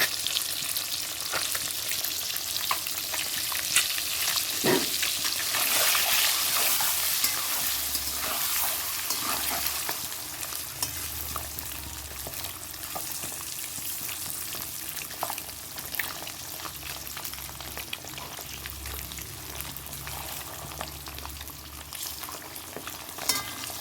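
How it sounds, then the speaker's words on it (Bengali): An egg fries in hot oil, a dense, steady sizzle and crackle heard up close throughout, with occasional scrapes and small pops. "ডিমটা একটু ফাটিয়ে নেব আর তেলের মধ্যে দিয়ে দেবো"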